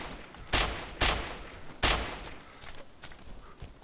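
Gunfire from the video game Arma 2 DayZ: three sharp shots crack out roughly a second apart, fairly close, followed by lighter scattered pops and rustling.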